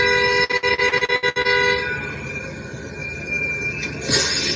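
Car horn held in a long, loud, steady blare, briefly chopped into rapid short bursts near the start, heard on a street during an immigration enforcement protest in Minneapolis, with no talk.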